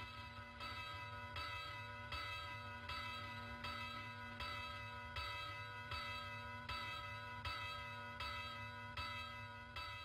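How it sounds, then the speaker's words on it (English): Church bells toll in a steady, evenly spaced rhythm, ringing on and on at a moderate distance with a lingering hum between strikes. "hear bells all over this island, bells beckoning you to a gay fair or a quiet church."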